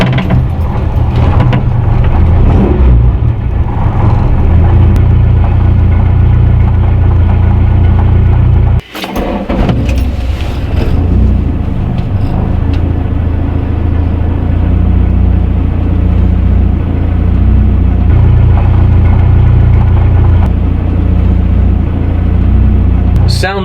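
Volkswagen Mk1 Caddy engine with no insulation or sound deadening starting and then idling, a steady loud low rumble and hum throughout with a brief dropout near the start, voices faintly audible over it.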